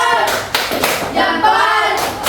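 Students in a sixth-grade class clap in short bursts, several quick rounds of hand claps in a classroom, with voices mixed in between the claps.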